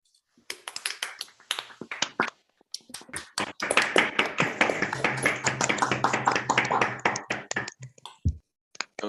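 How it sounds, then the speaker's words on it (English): Scattered hand claps from an online audience, each person unmuted on a video call, build from sparse taps into a dense patter of applause lasting several seconds before thinning out to a few final claps. "I'd ask everybody to please unmute themselves and applaud the speaker"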